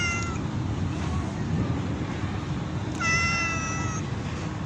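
A cat meows close by, with one drawn-out meow near the start and a clearer, louder one about two-thirds of the way through, over a low rumbling background hum.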